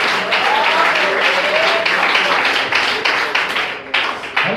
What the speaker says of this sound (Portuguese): receba palmas e glória a Jesus.